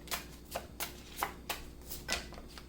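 Tarot cards being shuffled give a series of crisp, papery riffling bursts at an irregular rhythm, close and fairly quiet, with no talk.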